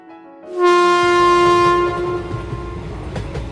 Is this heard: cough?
no